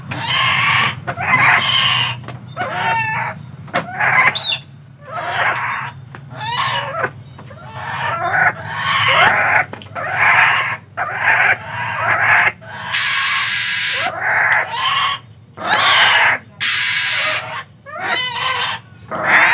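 Ruarwa birds, also called mandar batu, call up close in a loud, repeated string of harsh clucking and squawking bursts over steady background noise, the calls coming in irregular rapid bouts for the whole stretch.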